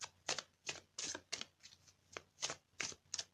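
Tarot cards shuffled in a series of about eight quick, crisp riffling bursts in a steady rhythm, close and fairly quiet, with no one talking.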